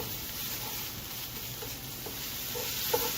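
Tomato paste fresh from the tube frying in a pot, a steady soft sizzle with faint stirring scrapes and a small clink near the end, no talking.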